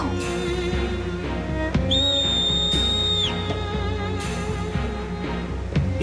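A clear, sustained whistle tone rings out for about a second over a busy orchestral music background in the Final Fantasy Mobius game, distinct and moderately loud, with no talking.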